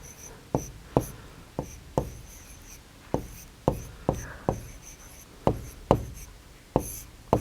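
Chalk or marker taps and strokes on a board during a primary maths lesson on area, coming in sharp, evenly spaced ticks about every half second, close and fairly quiet, with no talk over them.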